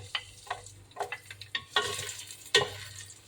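Garlic hits hot oil with bursts of crackling sizzle, punctuated by several sharp stirring clinks over a low steady hum.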